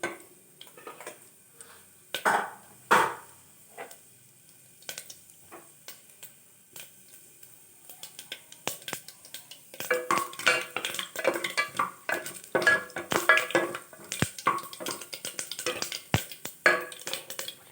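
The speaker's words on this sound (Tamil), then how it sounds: "கொஞ்சம் கடுகு உளுத்தம்பருப்பு இது பொறிஞ்சு வரட்டும்" Scattered pops and crackles from mustard seeds and urad dal in hot oil grow denser and more frequent, with a few sharp clinks of a utensil against the pan.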